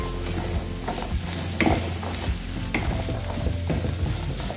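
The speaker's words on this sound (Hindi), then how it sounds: "सारे सब्जियों को हल्का सोटे करेंगे।" Beans, capsicum and onion sauté lightly in a pan with a constant sizzle, while a spatula stirs and scrapes them in repeated strokes, close and moderately loud.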